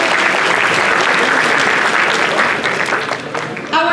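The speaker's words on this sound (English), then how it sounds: "Give her a big round of applause." An audience at a Diwali cultural program in Panama City, Florida, applauds a performer after her act, with dense, loud, sustained clapping from a crowd that thins slightly toward the end.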